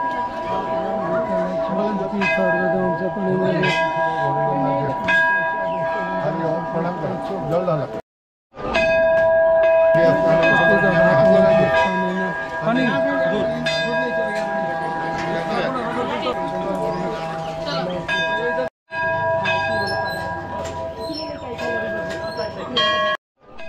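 Bells at Tilinga Mandir, a bell temple in Assam, ring repeatedly with bright metallic tones over a busy crowd of chattering voices, with short breaks in between.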